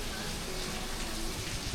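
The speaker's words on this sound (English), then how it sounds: "this is as light as the rain can go" Light rain patters steadily outdoors just after a heavy downpour, a soft continuous hiss of drops on surfaces, close and even throughout with no voices.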